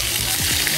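Shrimp cooked in salt sizzle and crackle steadily in a hot pan, a dense close frying hiss with a few low bumps from stirring.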